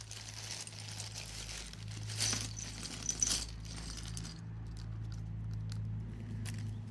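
Small plastic model kit parts, mostly Tau pieces, spill out of a box in a faint clattering rattle over a low steady hum, fading to sparse light clicks.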